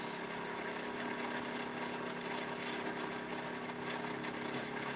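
Small pulse motor with tiny coils and a reed switch running at around 2000 RPM on 6 volts, giving a steady, continuous buzzing whine with stable tones and no talking.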